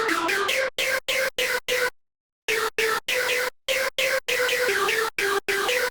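Dry trance synth lead built on a resonant wavetable with all effects turned off, playing choppy gated chords in a quick rhythmic pattern with a brief pause midway, bright and close.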